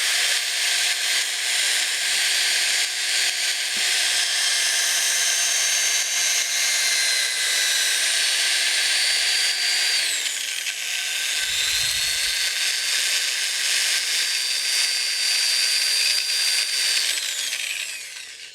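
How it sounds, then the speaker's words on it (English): A power sander working a wooden bowl spinning on a lathe, a loud continuous high whine and grinding hiss that holds steady for the whole stretch with slight shifts in pitch, close up. "I've been very cautious about not wiping that power sander over these edges"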